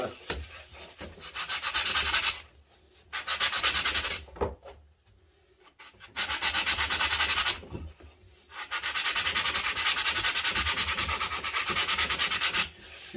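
Sanding or abrasive rubbing smooths the mold seams on a commercial fish mount body, coming in long raspy strokes in several bursts separated by short pauses, loud and close with no talk.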